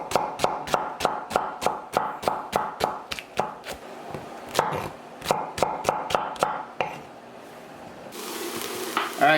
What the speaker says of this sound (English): we have our aromatics cooking off